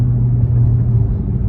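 A 2019 Dodge Charger RT V8 in sport mode rumbles loudly and close, a deep throbbing low growl held steady for a second and a half with no talk.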